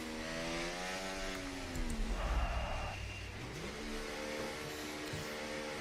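F1 race car in the video game F1 24 at Baku, fitted with a GP2 engine: a high, loud engine whine revving up through gears, dipping as it shifts and slows, then climbing again, close and continuous with no talk.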